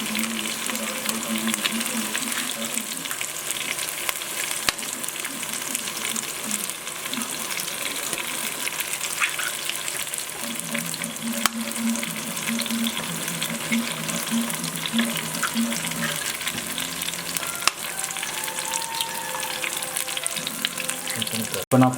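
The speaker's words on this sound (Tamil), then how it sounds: "நாலு முட்டை உடைச்சி ஊற்றிக்கலாங்க." Eggs frying on a hot griddle with chopped parotta for kari kothu parotta, a constant loud sizzle with occasional scraping and stirring, a faint voice now and then beneath it.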